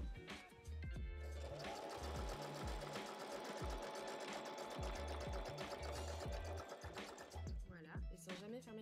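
Sewing machine stitching a skirt seam about 1 cm wide, a steady fast mechanical whirr with a regular thumping needle rhythm that runs nearly the whole time, close and loud, with faint background sound.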